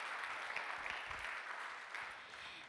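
Audience applause at a tech conference session, steady broadband clapping from a crowd lasting the whole stretch, moderately distant and fairly even in level.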